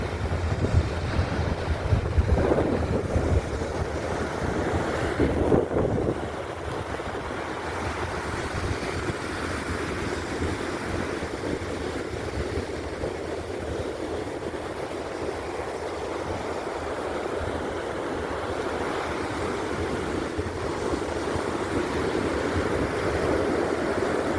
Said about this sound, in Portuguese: Olha como é que o mar está avançando.